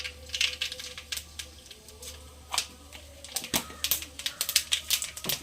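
Mustard seeds splutter in hot coconut oil in a pan, giving rapid, irregular crackling pops that come close and fairly loud over a low steady hum.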